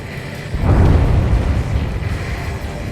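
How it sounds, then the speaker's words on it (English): A huge underwater explosion in Ace Combat 7 rises at about half a second into a deep, loud rumbling boom, then rolls on and slowly fades over a steady low background. "A huge explosion just went off underwater"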